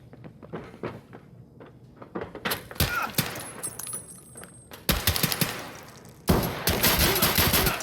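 Single-fire gunshots in the Escape From Tarkov video game, a series of sharp separate cracks spaced irregularly, with a longer louder burst of fire toward the end, alone without speech.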